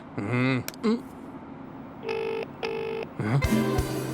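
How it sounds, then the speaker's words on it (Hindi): Electronic telephone tones come from a phone during a call. There are warbling beeps, then two steady ringback tones, followed by a clipped burst, with a brief voice in between. "भाई रिंग तो जा रही है।"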